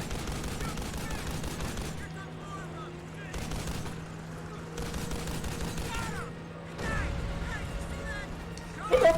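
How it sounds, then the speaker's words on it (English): In the WWII shooter Big Red One, a machine gun fires repeatedly in bursts, mixed with other battlefield gunfire and blasts, while a player talks over the action. "if you just keep trying to fire repeatedly with the machine gun, it overheats, just like real machine guns do"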